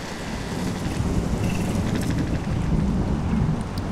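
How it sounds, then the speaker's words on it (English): Steady rain with rumbling thunder in the video game Life Is Strange, a dense, constant downpour with low rolling rumbles throughout and no voices. "It's raining. Oh no."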